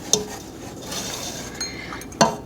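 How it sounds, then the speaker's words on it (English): Sugar and cook-type ClearJel are whisked together in a pot for apple cranberry pie filling, giving a few sharp metallic clinks and scrapes against the pot, close and fairly quiet, with no voices. "I'm going to give that a whisk first"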